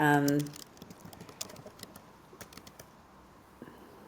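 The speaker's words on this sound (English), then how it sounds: "I'm typing away here so I can get all my notes together" A brief voice at the start gives way to scattered light clicks of keyboard typing, irregular and fairly close, in a quiet room.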